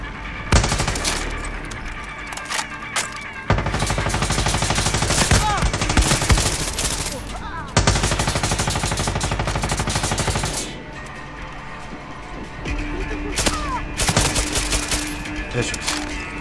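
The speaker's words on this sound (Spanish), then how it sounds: "¿Quién me está disparando?" Sustained machine-gun fire in a Far Cry 6 firefight, dense rapid bursts with loud clustered shots and brief pauses, filling the whole stretch with game action.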